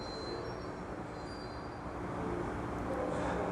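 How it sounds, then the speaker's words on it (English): An Amtrak passenger train rumbling steadily nearby at a station, with broadband rail noise, faint high wheel squeal tones, and a gradual swell in loudness toward the end, no voices. "First look at an Amtrak."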